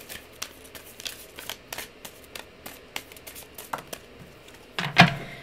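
Rapid riffling of playing cards being shuffled, quiet repeated flutters in quick bursts, ending with a louder snap.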